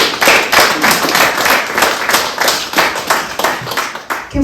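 Audience clapping at a municipal election forum in Thorsby, dense and close, steady for several seconds with faint voices mixed in.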